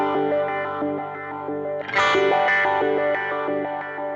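Electric guitar through a Line 6 Helix Supro amp path with chorus and delay engaged, a repeating clean arpeggio shimmering and echoing, swelling brighter midway into a louder strummed chord that rings out with trailing repeats.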